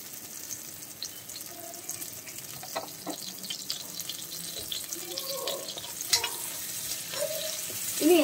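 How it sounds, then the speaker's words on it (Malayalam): Green chillies sautéing in a pan as more oil is poured in while cooking a North Indian fish curry, giving a soft continuous sizzle and hiss with a few faint scrapes, fairly quiet throughout. "നമുക്ക് കുറച്ച് എണ്ണയും കൂടി ഒഴിച്ചു കൊടുക്കാം"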